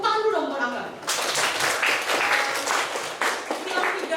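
Applause from a high-school classroom audience, a burst of many hands clapping that starts abruptly and holds steady for a few seconds, with a voice speaking just before it begins.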